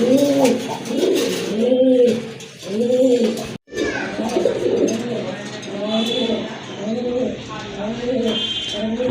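Pigeons offered for sale, including a pair of Andalusian-colored birds, coo steadily in a repeated rhythmic pattern, close and fairly loud, with a brief dropout midway before the calls resume.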